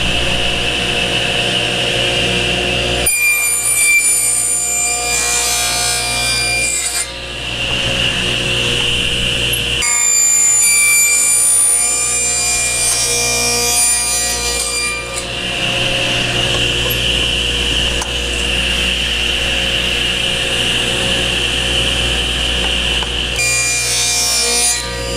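A hand saw cuts a tenon in wood for a garden gate, making long steady rasping strokes in continuous sustained runs broken by brief pauses. The sawing is loud and close.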